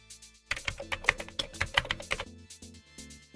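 Rapid typing on a computer keyboard into a search box, a close, crisp burst of key clicks with a few louder taps, then quieter scattered keystrokes as the entry finishes.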